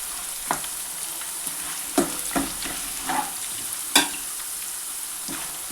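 Sago khichdi with roasted peanuts frying in a pan gives a soft, steady sizzle, broken by several light stirring scrapes and clinks spread through the clip.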